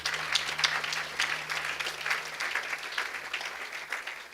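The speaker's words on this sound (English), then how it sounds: "I want you to give all the women in this auditorium a round of applause" A large audience in an auditorium applauds at an official ceremony, a sustained, even wash of many hands clapping, heard at a moderate distance with no voices above it.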